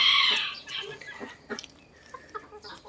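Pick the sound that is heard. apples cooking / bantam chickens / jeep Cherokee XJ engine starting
bantam chickens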